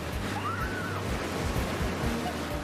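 Ocean waves washing onto a beach, a steady broadband wash of surf with a faint bird-like whistle drifting over it, fairly close and continuous.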